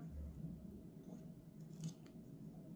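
Scissors snipping knitting yarn during hand knitting, a few faint close cuts over a quiet room hum, no talking.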